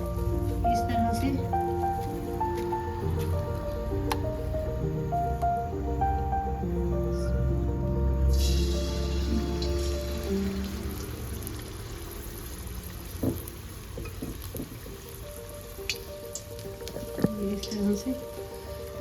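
Chicken lollipops coated in batter fry in hot oil in a kadhai, giving a steady rain-like sizzle with crackles and pops, while someone talks over it.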